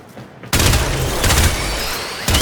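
Weapon fire destroying targets in Warframe, sustained loud bursts of shots that begin abruptly and keep going close and dense, with a brief lull before one more burst.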